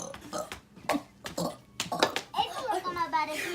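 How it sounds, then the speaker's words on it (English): A child pushes out a short run of burps, voicing the words "bunny rabbit" as they come, with other child speech around them, close and fairly soft. "This is called a bunny rabbit burp."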